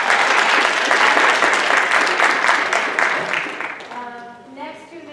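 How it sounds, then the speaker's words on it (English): An audience at a school PTO presentation breaks into dense, sustained applause that gradually fades out, followed by a voice speaking at the end. "So I think we should applaud and recognize her."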